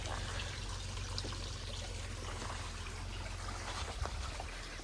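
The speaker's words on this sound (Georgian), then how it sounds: "წყალი არის გამოყვანილი" Water runs steadily from a pipe brought down from higher ground at the edge of a mountain village, a continuous splashing trickle heard close and alone, with no voices.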